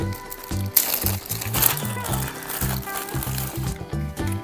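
Plastic packaging from an AliExpress order of ten fridge lamps crinkles and rustles as it is handled and opened, close and fairly loud in irregular bursts, with someone talking over it.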